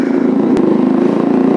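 Motorcycle engine running steadily after being started, a loud close idle rumble with a regular pulsing beat and one brief sharp click partway through, no talk.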